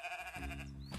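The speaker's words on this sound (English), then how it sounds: "Sheep," A sheep gives one short bleat over a steady musical backing.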